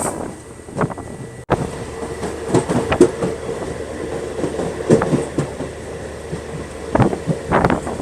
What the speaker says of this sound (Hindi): तो अभी अपनी इंटरनेशनल ट्रेन पहुंच गई है अपने पहले स्टॉपेज देवरी परवा रेलवे स्टेशन।